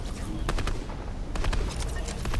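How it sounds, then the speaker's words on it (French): Submachine gun firing in Fortnite, a fast rattling burst of shots around mid-clip against a busy background of steady game noise, fairly loud and close. "Ah, la petite mitraillette, ça va aller vite."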